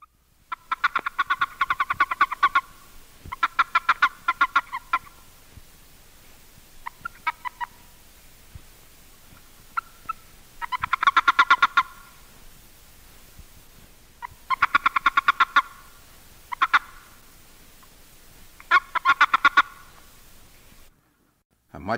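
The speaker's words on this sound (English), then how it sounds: "This is a warning chirp of the boreal toad, Bufo boreas" A boreal toad, Bufo boreas, gives repeated warning chirps in short rapid bursts of clicking trills, several clusters separated by pauses, recorded close and clear against a quiet background.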